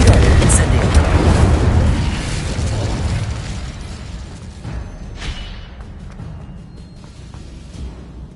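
Spell blasts in Hogwarts Legacy on PS4: a loud booming burst opens the clip, then a run of fainter pops and whooshes trails away over several seconds.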